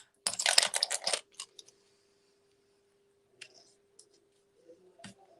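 Scissors snip through paper in a quick, crisp burst of cuts, then a few faint isolated clicks follow in a quiet room.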